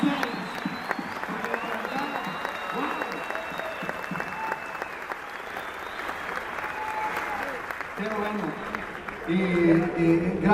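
A conference audience in Lima, Peru applauds in a long, dense, steady roar of clapping with some voices and cheering woven through, swelling louder toward the end.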